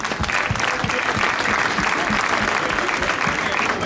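A crowd applauds at the opening of a food event, Favole di Gusto, with sustained dense clapping and a few louder individual claps standing out near the front.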